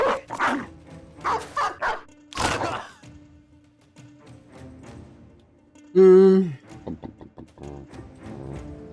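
Dog barks in the video game Battle Brothers, several sharp barks early on and a louder yelp around the sixth second, over quiet game ambience and a low hum.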